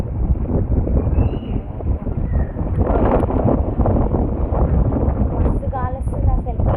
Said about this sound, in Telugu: మస్తు గాలి వస్తుంది అసలుకి.